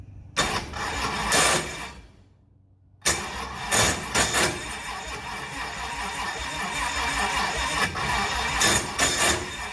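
An airboat engine starting: a cranking starter, a brief pause, then the engine catches and runs loudly and roughly up close, with no talk over it.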